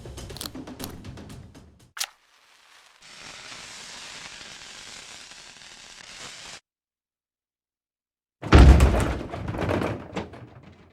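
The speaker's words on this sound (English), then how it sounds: "The racket from the cannon was more devastating than the shell itself." A cannon fires in the adventure game Willy Morgan and the Curse of Bone Town: a long hissing stretch, a pause, then one loud, deep booming blast that rumbles briefly before fading.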